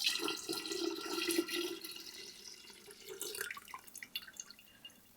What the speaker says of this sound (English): Let's get it poured in, nice and gently.